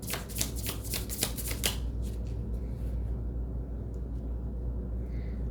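A deck of smooth-finish cards is shuffled close up, with a quick run of crisp riffling bursts over roughly two seconds, then fading into soft handling noise and room hum, with no talking.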